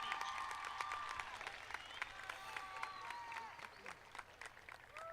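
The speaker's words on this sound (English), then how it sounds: "Let's give Brooklyn another round of applause." Audience applause at a high school commencement ceremony, with sustained clapping from a large crowd throughout and faint voices and whistles mixed in.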